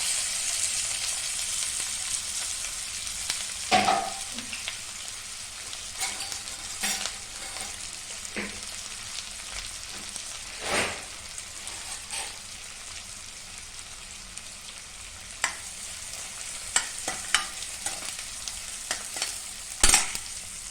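Onion fries in a pan with a steady crackling sizzle, while a spoon scrapes and knocks against the pan now and then throughout.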